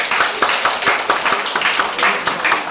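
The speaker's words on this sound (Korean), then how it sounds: "우리 아이들을 위해서 박수 한번 하겠습니다." A church congregation claps for the children in a quick, even rhythm. The loud, close applause runs steadily throughout.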